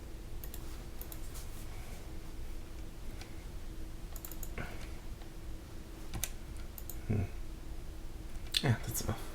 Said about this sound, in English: keyboard tester. Yes, let's see which keys work.